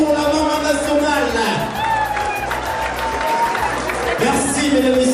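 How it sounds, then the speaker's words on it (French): Audience at a Cameroonian Bamboutos community association gala in Canada applauding steadily for several seconds, broad clapping with scattered cheers, heard alongside a speaking voice. "Est-ce qu'on peut applaudir très fort pour la maman nationale?"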